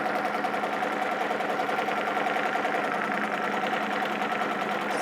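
A sewing machine quilts a baby quilt, its needle running in a fast, steady mechanical chatter at close range, continuous and fairly quiet throughout.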